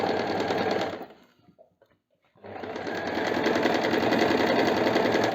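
An Usha Janome Wonder Stitch sewing machine runs in two close, loud bursts of rapid mechanical stitching, with a brief near-silent pause and a faint click between them.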